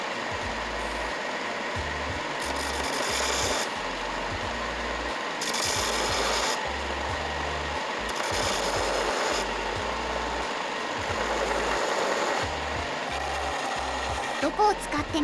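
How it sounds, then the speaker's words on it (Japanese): A belt sander deburrs the sides of a cast aluminum piece. Its steady motor whine is broken by repeated loud bursts of grinding as the metal is pressed to the belt, close up. "久しぶりにベルトサンダー出してみたのだ。"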